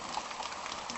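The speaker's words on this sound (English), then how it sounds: "It is raining out, and they said we were going to have showers, but I think this turned into a real rain." Rain falls outdoors in a steady, dense hiss of fine patter, even and continuous without any voices.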